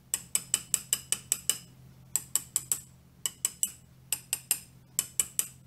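Bursts of quick, bright metallic taps on a mini lathe part in short groups separated by brief pauses, close up and ringing, with a faint hum underneath.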